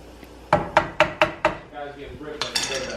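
Utensil knocking against a pot while food is mixed for dinner, five sharp close clacks in a steady row followed by softer scraping and clinks.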